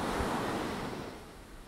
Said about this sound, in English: This is Dover Beach,